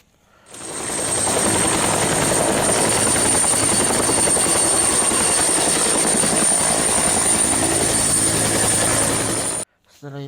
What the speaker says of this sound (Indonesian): Setelah itu kita mendapatkan helikopter berwarna orange